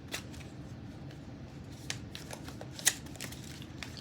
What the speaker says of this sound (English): Let me give this a quick little shuffle.